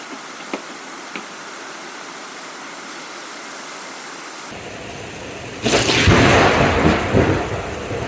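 A thunderstorm with rain in Central Texas: a couple of faint distant cracks over steady rain hiss, then a loud, close thunderclap rolling and rumbling over the downpour, with no voices.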